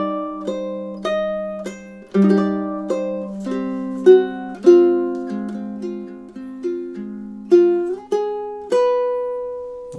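Solo ukulele picks out measures three and four of a love theme, a close, clear run of plucked notes in a steady eighth-note rhythm with several stronger accented notes.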